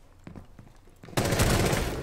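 Sustained burst of automatic gunfire in the tactical shooter game Rainbow Six Siege, erupting loud and dense after a second of scattered, quieter shots and clicks, then hammering continuously to the end.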